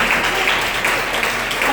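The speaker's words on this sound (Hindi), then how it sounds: "चलो ताली बजाइए अपने पास लोग।" A church congregation claps hands together, a dense, steady wash of applause, fairly loud and filling the whole moment.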